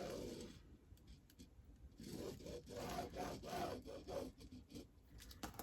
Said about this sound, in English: then I can draw my second line